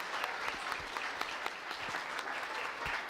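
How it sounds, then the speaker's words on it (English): Audience at a university chemistry demonstration show applauds, a steady burst of clapping from a crowd, moderately distant and alone. "Can I have a round of applause for Anna and Becky?"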